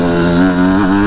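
Yamaha YZ125 two-stroke motocross bike engine running on a track, a steady, buzzing drone at close range that rises briefly near the end.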